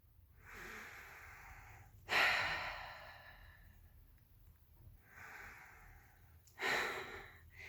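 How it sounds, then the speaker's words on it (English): Slow, deep breaths in a breathing exercise: two long, loud exhales surge out about four seconds apart, with softer inhales drawn in between, close and quiet otherwise. "Now let's take a few breaths."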